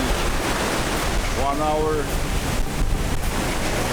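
Ocean surf rolling in at Dahican's Coconut Beach, a steady broadband roar of waves and wind with a brief voice speaking over it partway through.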